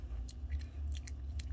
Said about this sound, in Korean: 바삭바삭.